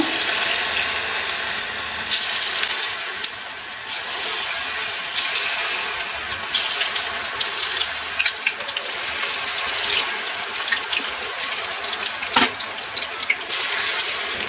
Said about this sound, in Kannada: ಎಣ್ಣೆ ಚೆನ್ನಾಗಿ ಕಾಯ್ದಿದೆ ಇವಾಗ ನಾವು ಇದಕ್ಕೆ ಒಂದೊಂದೇ ಎತ್ತಿ ಹಾಕೊಳ್ಳೋಣ